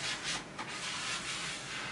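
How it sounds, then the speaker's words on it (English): Soft continuous rubbing and swishing as a backing liner is pulled away and a poster is smoothed flat onto a surface, close and quiet with no talk. "just want to continue pulling down the liner and then smoothing out the poster at the same time"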